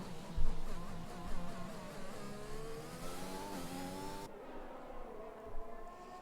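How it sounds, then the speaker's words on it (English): A McLaren Formula 1 car at Bahrain International Circuit in a racing game: a high engine note revs and climbs through the gears, then cuts off abruptly, with other cars faint behind it. "As we just see the McLaren just storming through the track, getting down and hitting the apex"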